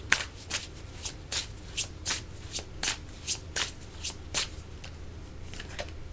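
Tarot cards being shuffled by hand produce a rhythmic run of crisp, papery riffles and slaps, about a dozen evenly spaced bursts close to the listener with no talking.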